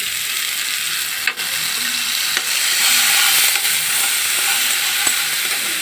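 Rohu fish frying with ground spices in a pan with chopped onion, giving a steady, loud sizzle and crackle throughout with a few brief stirring scrapes and no talk.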